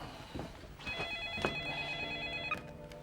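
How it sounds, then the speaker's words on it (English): A telephone rings in a home, a sustained electronic ringing tone through most of the moment, with indistinct background sounds and no clear talk. "Hey, phone again."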